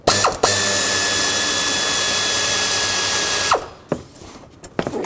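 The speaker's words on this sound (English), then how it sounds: "I'm going to stick my socket with an extension down in here. It's a 13mm socket, and I'm going to try and remove this one." A socket wrench fitted with an extension and a 13mm socket works at a bolt on a 2003-2021 Chevrolet Express van, giving a loud steady mechanical whir. It stops abruptly and a few clanks of metal follow.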